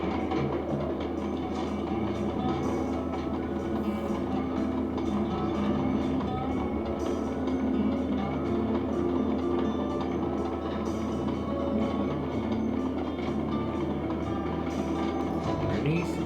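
A moving train in the video game Sly 2: Band of Thieves rumbles steadily and loudly throughout, a continuous rattling clatter with faint talk beneath it.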